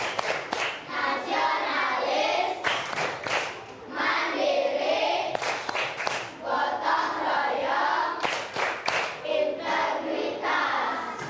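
A group performs the "tepuk PPK" clapping routine, bursts of sharp hand claps in patterned rhythm separated by short gaps, mixed with voices calling along.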